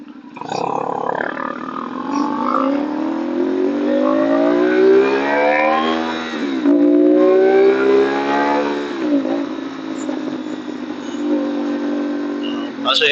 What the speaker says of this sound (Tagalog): Pasensya na kayo sa tambutso ko.